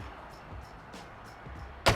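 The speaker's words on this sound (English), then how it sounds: "Door closes nicely" Quiet ambience gives way to a single solid thump near the end as the door of a restored 1971 Porsche 911E shuts.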